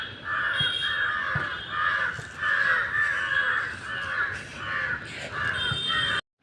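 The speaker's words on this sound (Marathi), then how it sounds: "तुम्हाला मी आवाज ऐकवते पक्ष्यांची." Crows caw repeatedly in a garden at dusk, loud harsh calls coming in overlapping bursts close to the listener, with a few other birds faintly behind and no talking.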